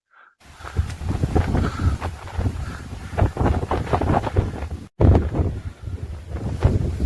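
Strong, gusty wind on Kondarangi Mountain roars and buffets the microphone continuously, with a brief dropout midway before the blustery rumble resumes.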